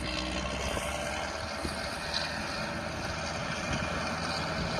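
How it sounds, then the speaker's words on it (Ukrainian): A Kirovets K-701 tractor, refitted with a foreign-car engine, pulls an eight-body Kverneland reversible plough during spring ploughing; its engine gives a loud, steady, unbroken drone, no talk. "Трактор Кіровець, оборотний плуг Квернелен."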